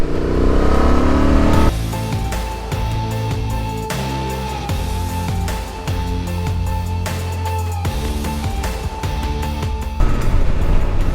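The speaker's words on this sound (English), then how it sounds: "Today we're riding the 2024 Transalp 750 from Honda." A 2024 Honda Transalp 750 motorcycle is ridden hard, its engine loud and droning steadily as it accelerates, the pitch stepping through gear changes over a constant rush of wind.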